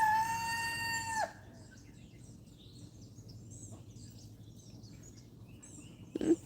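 A rooster crows once loudly near the start among free-ranging chickens on a dry farm plot, followed by quieter, distant bird calls and soft clucks over outdoor background noise, with a brief squawk at the end.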